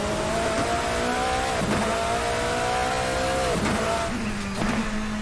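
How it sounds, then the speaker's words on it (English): Nissan R390 GT1 twin-turbo V8 in the Assetto Corsa racing game, a steady loud engine drone rising in pitch under acceleration, with two brief dips for gear shifts and quick re-climbs, heard alone. "You can hear that big twin turbo V8 behind me."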